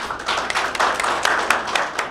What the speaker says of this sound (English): give a round of applause for Carolina Ramirez